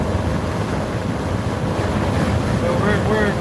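Steady, loud roaring wind buffets a van driving at about 80 miles an hour, a continuous broadband rush with a voice faintly present underneath.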